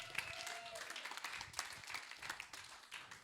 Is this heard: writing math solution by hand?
no